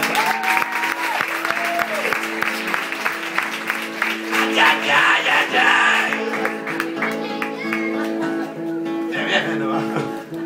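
Sustained applause from a comedy show audience, with cheering voices and music underneath.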